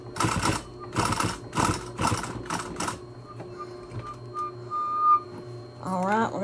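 A sewing machine runs top stitching close to the edge of a fabric mask in several quick bursts of rapid needle chatter, followed by quieter mechanical hum and faint background tones; close and loud, no talk.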